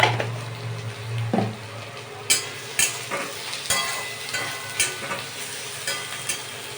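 Food sizzles steadily in a hot pan while a utensil stirs and scrapes in a series of sharp knocks, close and fairly loud.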